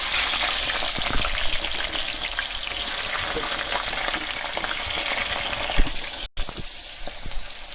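Cut potatoes hiss loudly in hot oil with panch phoron spices, a dense, steady frying roar with small pops and one brief dropout near the end, no voices.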